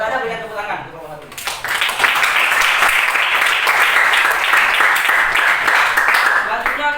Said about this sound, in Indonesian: Kalau tidak ada, berikan tepuk tangan.